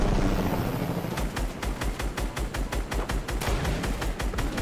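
Helicopter in the Fortnite video game, a loud rapid rotor thumping with a steady rhythmic chop close by, with no talking.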